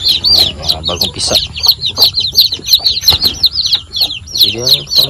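Freshly hatched chicks and mother hens at a poultry farm, a busy chorus of rapid high cheeping with lower clucks mixed in, close and loud throughout.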